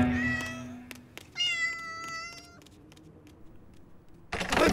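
A cartoon cat meows in a children's animated show: two clear, tonal, drawn-out meows, the second higher and wavering, with a short tapping between them and a burst of louder noise at the end.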